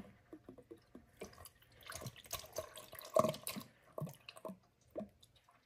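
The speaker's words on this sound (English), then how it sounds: "I think oil should glug when you put it in, right? Something about that sound." Motor oil, Mobil 1 0W-16, glugs and gurgles in irregular liquid pulses as it is poured into the engine of a 2019-2024 Toyota RAV4 during an oil change, fairly quiet and close, with no talking.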